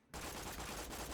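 Dahl Sandhawk SMG from Borderlands 2 firing in a dense, continuous burst, loud and close, with no talk over it.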